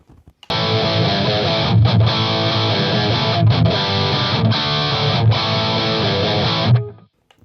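Electric guitar through a Friedman BE-OD overdrive pedal plays chords with a gritty, saturated tone, steady and loud for several seconds before cutting off.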